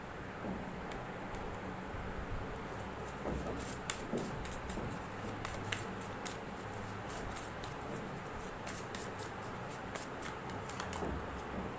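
Tarot cards being shuffled, a steady soft riffle with faint crisp taps scattered throughout, close and low in level, continuing without pause and with no talking.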